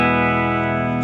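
A 1968 Hofner Verithin electric guitar played clean through the bridge pickup into a Deluxe Reverb amp, a sustained ringing chord with rich harmonics and reverb tail, steady and loud, alone without talk.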